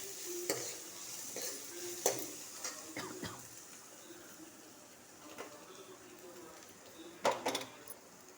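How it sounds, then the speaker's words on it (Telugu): Chana dal frying in a pan with an onion and green chilli tempering gives off a faint, steady sizzle, broken by occasional sharp stirring clicks and scrapes. "శనగపప్పు వేసుకొని పచ్చివాసన పోయినంత వరకు వేగించుకోవాలి"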